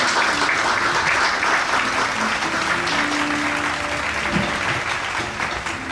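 An audience at an industrial complex anniversary ceremony applauds to welcome the chairman to the stage, giving steady, full hall clapping that holds evenly for several seconds with a faint murmur beneath.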